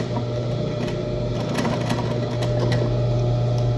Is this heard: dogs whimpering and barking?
no